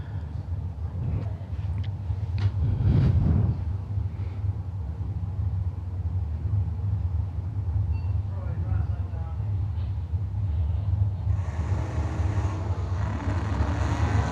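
Drag racing cars with throttle stops run down a dragway at a fall meet, a steady loud engine drone rising in a burst around three seconds, with a commentator talking over it.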